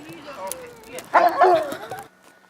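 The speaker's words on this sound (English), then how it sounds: "Dog with the sweater." A dog wearing a sweater gives a few short yips and barks on a snowy New York street, fairly close, with people talking over and around the barks.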